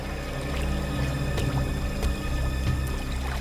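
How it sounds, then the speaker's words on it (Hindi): Water flows and trickles steadily somewhere nearby in a dramatized setting, a soft continuous pouring wash with faint clicks, fairly quiet and without speech. "सर इस तरफ से पानी के बहने की आवाज आ रही है"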